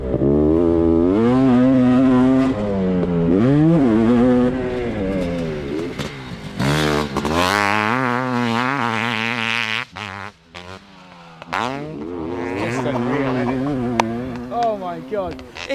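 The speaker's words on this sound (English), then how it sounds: "It's really nice to be this side, to see what the bike sounds like" A brand-new 500cc two-stroke race motorcycle rips through a hot lap, its loud, wavering engine note rising and falling as it passes, with people talking over it.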